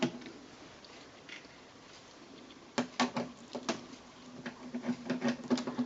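Torx T10 screws being worked out of the side panel of a Philips FCD485 CD player, heard as a quiet stretch followed by a cluster of sharp close clicks and scraping taps in the second half.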